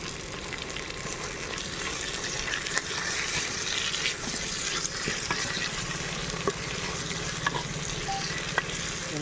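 Tomatoes and green chillies being stirred into mutton biryani masala in a pan, a steady close sizzle with soft scraping stirs and small clicks throughout, no talking.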